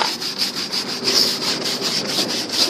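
A brush scrubs shampoo foam across the body of a class C vehicle during a wash, giving quick, rhythmic rasping strokes close by, with no voices.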